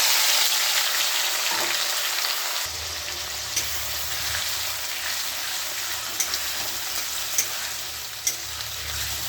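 Ingredients fry in oil in a kadai with a loud, constant sizzle that swells partway through, broken by a few light stirring clicks.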